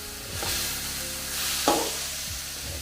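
Bitter melon fries in a pan after water is added, giving a loud, close, steady sizzle with scraping stirs and one sharp burst of hissing partway through.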